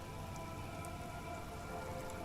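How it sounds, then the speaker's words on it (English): Rain from the game Disco Elysium falls steadily on wooden boards and surrounding water, a dense, even hiss of drops close by with no voices. "All around you, rain keeps falling down."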